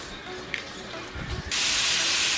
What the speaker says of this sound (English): I just dropped the garlic and herb butter